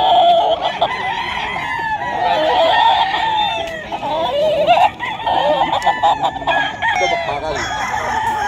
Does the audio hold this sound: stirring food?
no